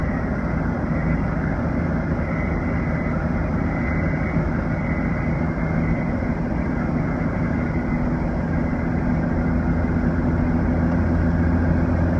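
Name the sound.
Cummins 12-valve turbo diesel truck driving uphill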